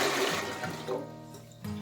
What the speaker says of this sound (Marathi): तर आता हे पहिले 1 पातेलं भरून पाणी ओतू